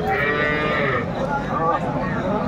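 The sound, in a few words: cow mooing at a cattle market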